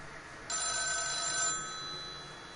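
A telephone rings in The Town of Light video game, a single bright electronic ring lasting about a second, close and clear over a quiet, hushed background.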